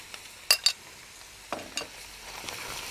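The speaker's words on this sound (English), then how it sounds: "Saute for 1 minute." Moussaka sauce with Santorini tomato paste sautéing in a pan, a soft low sizzle broken by a few sharp utensil clinks and scrapes in small clusters, near and fairly quiet.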